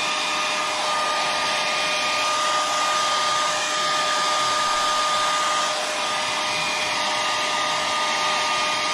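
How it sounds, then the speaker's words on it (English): A hair dryer blows steadily to dry a watercolor still-life painting, a continuous loud whirring hiss with a faint motor whine, unbroken for the whole stretch. "we're going to get the hairdryer out, right, and dry."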